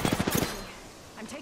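Bursts of automatic gunfire from Apex Legends ring out in a fast cluster of sharp shots, then give way to a quieter stretch with faint game sounds and a brief voice near the end.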